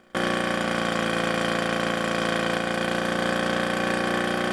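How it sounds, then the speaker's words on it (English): Birotary aircraft engine built to drive a propeller, running steadily and loudly at a constant idle-like rumble with a dense, even pulsing tone from start to finish, alone without voices. "this is an aerial engine, which means that it's designed to spin a propeller"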